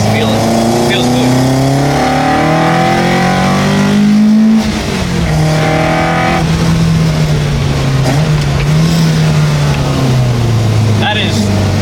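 Ford Escort MK1 RS2000 street car driven on the road, its engine induction roaring steadily with a small rise and fall in pitch, loud and close, while people talk over it.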